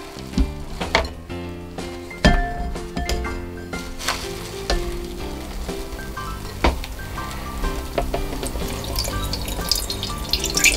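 Marinated beef for jerky being drained and squeezed by hand, giving close, wet squelching and splashing with uneven dripping and clatter, and no talking.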